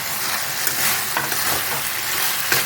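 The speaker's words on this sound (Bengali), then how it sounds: "এখন আমি এই কপিগুলো এর মধ্যে দিয়ে দেবো" Cauliflower pieces tipped into oily, fried-down spice paste for cauliflower posto and stirred through, giving a steady close sizzle with soft scraping stirs throughout.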